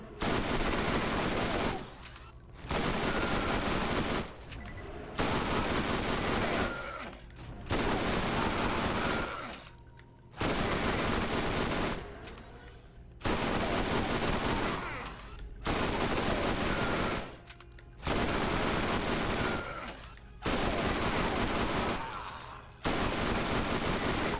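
Automatic gunfire in the shooter video game Borderlands, including a weapon called the Stinger, comes as long, loud, dense bursts of rapid shots. Eight or so sustained volleys are separated by short pauses.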